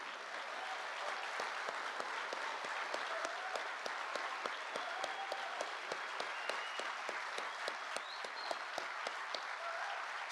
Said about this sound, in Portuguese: eu peço uma salva de palmas para o nosso presidente Lula.